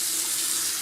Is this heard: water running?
yes